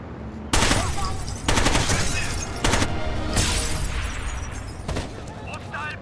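Frag grenade blast and gunfire in Rainbow Six Vegas 2, with loud sharp booms and bursts of automatic shots striking in repeated clusters over a rumbling game background.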